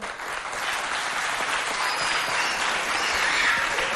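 Steady, dense applause from a school audience at a contest between École Centre Mixte de Mao and École Moto, sustained evenly for several seconds with no talk over it.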